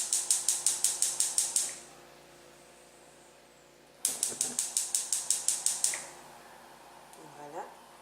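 A gas stove's igniter clicks in a rapid burst of about eight sharp ticks, pauses, then clicks in a second equal burst as the flame is lit under a pot of flaxseed gel. A low room hum sits beneath.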